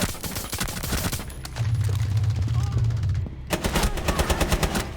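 Rapid automatic gunfire in the game Rainbow Six Siege rattles in dense bursts, loud and close, with a short pause before another volley and game voices underneath.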